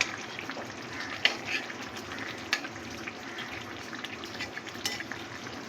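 Pabda fish curry being stirred with coriander leaves in a thin, simmering gravy, a soft steady bubbling sizzle with a few light scrapes and clinks of the spoon against the pan.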